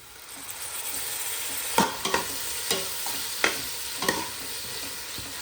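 Coriander leaves and mint sauté in a pan while preparing beef biryani, a continuous sizzle punctuated by about six sharp scrapes and taps of a spoon stirring the pan.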